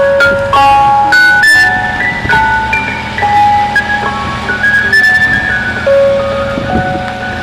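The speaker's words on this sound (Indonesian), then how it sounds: "Yang ini ada mobil es krim." A toy ice cream truck plays its tinny electronic jingle, a bright looping melody of single notes heard close and loud with faint rustling handling noise beneath.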